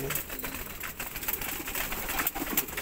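Pigeons cooing and fluttering close by, a busy flock with soft repeated coos over a constant rustle of wings and outdoor noise.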